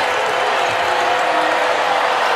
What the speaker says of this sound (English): Crowd is up and roaring.